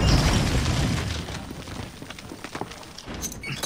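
A grenade explosion in Call of Duty: Warzone, a loud close boom that opens the clip and decays into crackling debris and rumble over a few seconds.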